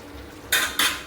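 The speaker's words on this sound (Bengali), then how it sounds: "এবার ঢাকা দিয়ে দিচ্ছি" A lid goes onto a cooking pot of plantain curry with mung dal fritters, giving two quick, bright metallic clanks close by, a fraction of a second apart, over a quiet kitchen background.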